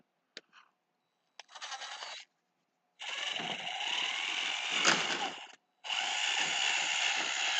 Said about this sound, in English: By the time I'm done with this, I'll actually be good at doing these screws.